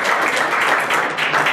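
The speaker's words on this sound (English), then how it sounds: "Thank you for the applause." Audience applause fills the hall after a speech at a conference on digital government, a dense, steady wash of many hands clapping with no voices on top.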